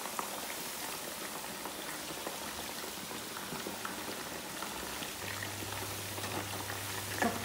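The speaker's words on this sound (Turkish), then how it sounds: "Evet arkadaşlar, kızartmış olduğumuz patatesi kontrol edelim şimdi." Potato pieces fry in an electric home deep fryer, giving a steady, dense crackle and bubbling hiss throughout, with a low hum joining in partway.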